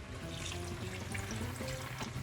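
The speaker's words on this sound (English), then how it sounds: "it's time to add a nice glass of wine" Wine poured from a glass into a cooking pot of browned meat, a steady liquid pour and sizzle running continuously for about two seconds at close range, with no talking.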